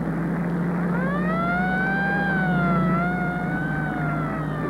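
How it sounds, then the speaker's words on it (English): A police car siren from an old 1930s-era patrol car wails in a long rising and falling sweep, loud and fairly close, over a constant rumble of engine and road noise. "That's a police siren in any language"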